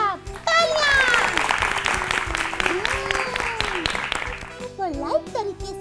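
Applause breaks out for a child named Vansh after a correct quiz answer in a fun-learning classroom show, a dense burst of clapping with children's voices and tonal chatter over it, ending as speech resumes.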